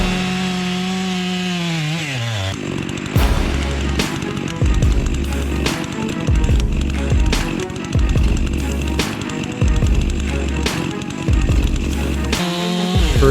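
STIHL chainsaw cutting into trees during logging, a loud close engine that idles, then bites into the wood in repeated rhythmic cutting bursts with revving between them.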